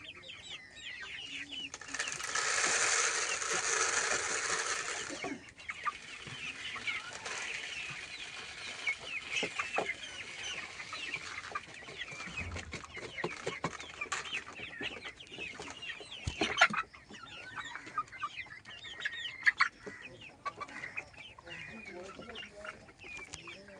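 Farm chickens cluck and murmur in irregular bursts around a household, with a loud rush of noise early on and scattered clucks and clatter continuing throughout.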